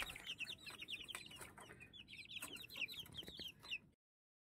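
Chickens cluck and chatter steadily inside a coop, with rapid overlapping calls close by that continue for nearly four seconds before everything cuts to silence.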